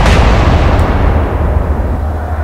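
Naval gunfire in the naval warfare game Atlantic Fleet, a single loud, booming cannon blast that rolls into a long, dense rumble fading out over a couple of seconds.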